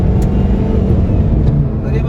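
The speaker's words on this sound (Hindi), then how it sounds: "देखो भाई एक नंबर, देखो कितनी तेज भग जाती है। ये देखो भाई दूसरे गियर में ही" A Chevrolet car accelerating hard in second gear, its engine giving a steady, loud low rumble close by throughout, with someone talking over it.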